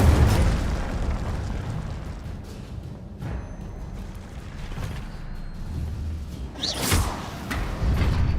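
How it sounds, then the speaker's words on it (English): Fire spell blasts from Incendio in Hogwarts Legacy, whooshing bursts over a rumbling game ambience, with a sharper flare near the end. "Incendio."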